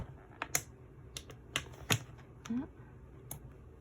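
Snap clasps on the sides of a small plastic container for 24 pens click open in a handful of sharp, close, separate snaps, with quiet talking in between.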